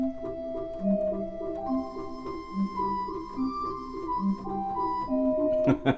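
A soft, steady 4ft Tibia theatre organ stop plays a quiet melody of held notes with the tremulant off, without any vibrato wobble, fairly faint and unaccompanied.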